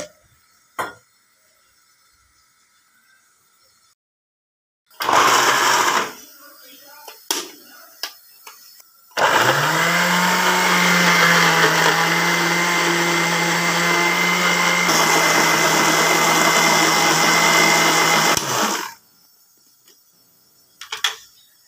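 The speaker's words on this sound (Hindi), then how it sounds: "थोड़ा सा पानी इसमें ऐड करके तो ब्लेंडर को चला देना है हमने" A loud electric blender grinds garlic and ginger with a little water, whirring steadily for about ten seconds with a low motor hum, preceded by brief clatter and handling noises, then stops.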